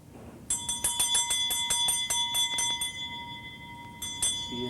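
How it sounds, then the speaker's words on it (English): A small hand bell rings in a rapid run of about ten bright metallic strikes at a séance, then stops, and a short second burst of ringing follows near the end. "Ring the bell."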